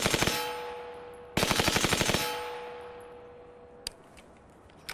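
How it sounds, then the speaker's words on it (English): Submachine gun firing two rapid bursts of about eight shots each, loud and sharp with ringing echo afterward, followed by a couple of isolated metallic clinks. "A submachine gun demonstrates how this heat would have built up after multiple asteroid impacts"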